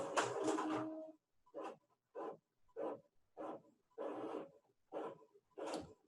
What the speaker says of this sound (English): Sorry if that printer in the back is a little loud.